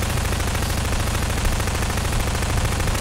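Gunfire from a gun in Garry's Mod, a continuous rapid stream of automatic shots at steady loud volume throughout the three seconds, with no pauses and no voices.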